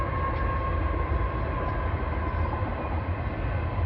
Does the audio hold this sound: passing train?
yes